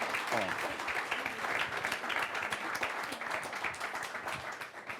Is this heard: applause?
yes